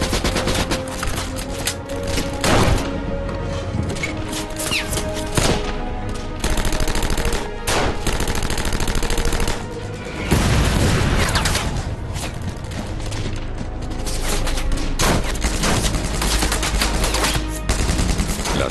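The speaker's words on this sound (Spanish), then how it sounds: "Los defensores del castillo devuelven los disparos," Gunfire in a castle battle, defenders firing back at attacking Waffen-SS troops: loud, near bursts of rifle and machine-gun fire crack repeatedly in dense, irregular volleys throughout.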